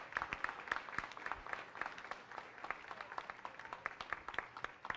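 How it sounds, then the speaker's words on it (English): An audience claps after a talk on a solar eclipse, producing a moderately quiet crowd applause with distinct individual hand claps standing out from the steady patter, continuing throughout without speech. "Let's give her a round of applause."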